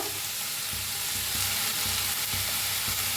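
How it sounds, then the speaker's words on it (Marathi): Onion fries in a pan with tomato, garlic and cashews, producing a dense, loud steady sizzle with rhythmic spatula strokes every half second or so. "कांदा हलकासा भाजत आलाय बघा आता ह्याच्यातच टाकूया टमाटो लसूण आणि काजू"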